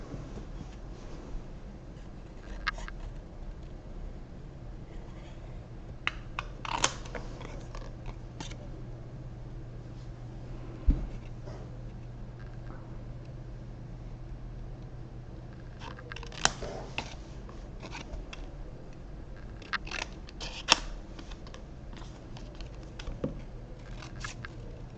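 Scissors snipping through paper while cutting out small chocolate boxes and a card, a scattering of quiet, crisp clicks spread irregularly over a low steady hum, with no voices.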